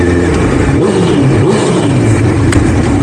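A motorcycle engine revs hard and steadily for about three seconds during a breakdown-prone ride, loud and continuous with a droning mid-range tone and no speech over it.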